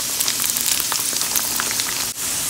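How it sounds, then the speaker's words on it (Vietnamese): Pork skin fries in hot oil with a dense, continuous sizzle and scattered pops, loud and close, with a brief dip in the crackling near the end. "Thì mình chiên cái da heo này đó các bạn, là trong mình chiên nó là trong khoảng 1-2 phút thôi."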